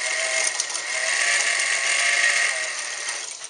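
A vintage Japanese-built Montgomery Wards sewing machine stitches through eight layers of denim on a long stitch, running as a steady, close, high-pitched mechanical whir with no pauses.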